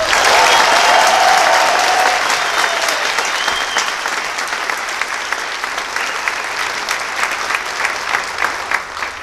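A large audience applauds loudly, the clapping strongest at first and then easing into a steady, sustained patter with a few scattered cheers.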